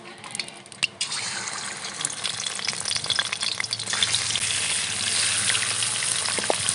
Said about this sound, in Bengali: তেল গরম হয়ে গেছে, মাছগুলো এবার ভেজে নেব